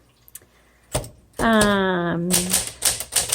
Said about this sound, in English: And let's do some typing.